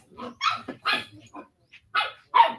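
A small, yappy dog barks in several sharp bursts at close range, with short gaps between the barks and no talking.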